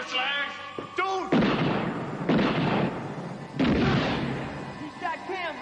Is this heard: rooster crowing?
no